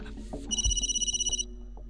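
A telephone rings once in a steady electronic trill lasting about a second in a Hindi film scene, with faint background sounds before and after.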